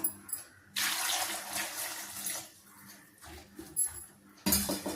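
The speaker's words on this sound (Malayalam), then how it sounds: "നമുക്ക് ആവശ്യത്തിന് വെള്ളം ഒഴിച്ചു കൊടുക്കാം." Water splashes into a cooking pot holding washed, chopped yam for a Kerala-style erissery, in a couple of close, moderately loud pours with short pauses between them.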